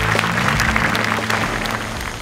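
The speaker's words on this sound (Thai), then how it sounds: "ขอเสียงปรบมือแรงๆด้วยนะครับ" Audience at a Thai innovation awards ceremony clapping loudly and densely, a sustained burst of applause filling the hall without pause.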